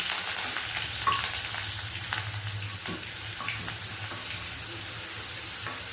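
Crushed garlic and mustard seeds fry in oil over a low flame for banana flower pickle, giving a steady close sizzle with a few light clinks and scrapes throughout, and no voices.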